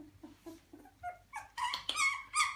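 Two-week-old puppies whimpering and yipping in a series of short, rising high cries that grow louder and more overlapping, with the mother dog nearby.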